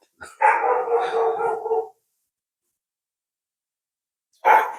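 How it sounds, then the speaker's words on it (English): A dog lets out one long, drawn-out bark or howl nearby at an abandoned cemetery, then silence, then another bark begins at the end. "Dogs know that we're here because they're barking at us."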